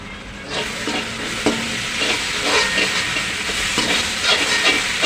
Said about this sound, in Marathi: आता मी हे परतून घेते